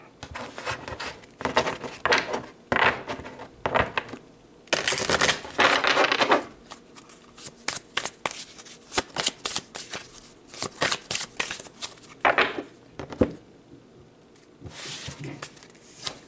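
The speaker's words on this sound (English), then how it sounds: "Let's pull some more cards." Tarot cards being shuffled and pulled from the deck, in repeated close papery riffles, slides and taps with some louder flurries, and brief talk in between.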